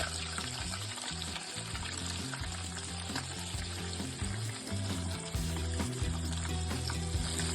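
Shrimp frying in hot oil, a dense, steady crackling sizzle close by that swells slightly as more pieces drop in, with no talk.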